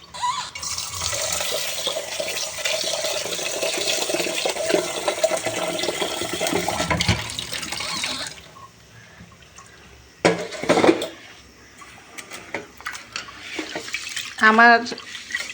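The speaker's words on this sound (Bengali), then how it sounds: "এদিকে চালটা একটু ধুয়ে রেডি করে রাখি" Rice being washed under a running kitchen tap, a steady rush of water for several seconds, then quieter splashes and swishing as the grains are rinsed, with brief louder bursts near the end.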